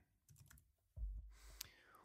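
Soft keystrokes on a computer keyboard during a Logic Pro X session, a few quiet taps and clicks, with a light thump and faint breathy background noise.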